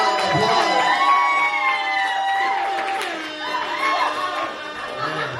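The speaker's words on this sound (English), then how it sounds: "Give Danielle a round of applause." A crowd at a poetry event's three-year celebration cheers and whoops for Danielle, loud overlapping shouts and clapping up close, swelling and easing over several seconds with a few voices rising above the rest.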